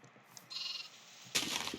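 Sheep bleat in a survival video game, two short nasal calls heard close and fairly clear against a quiet background.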